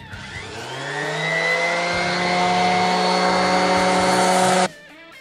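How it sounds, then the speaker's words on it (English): Electric sander running steadily on a scratched chopping board, a loud continuous motor whine with strong harmonics that builds over the first second, holds for about four seconds, then cuts off abruptly. "I'm just going to take my time with the sander"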